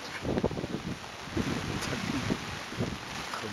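Strong gusting wind during a typhoon buffets the microphone outdoors, a continuous rough roar with louder bursts near the start, heard alone without speech.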